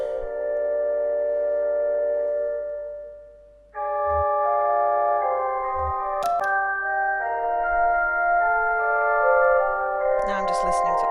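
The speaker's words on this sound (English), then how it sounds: "Now I'm just listening to organ music." Organ music playing on a video game phone menu, thin sustained electronic organ tones shifting between chords, with a few brief clicks and chirps breaking in.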